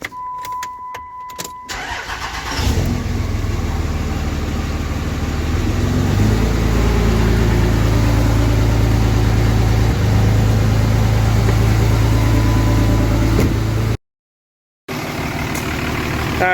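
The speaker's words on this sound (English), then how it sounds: "So let's get old Bertha fired up." A work truck engine cranks and catches, then settles into a loud, steady running rumble close by, with a brief dropout near the end and no talking.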